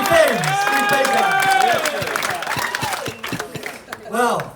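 Wedding guests at a reception in France break into applause and cheering, a dense crowd of clapping with whoops and shouted voices on top, fading slightly before a final swell of cheers.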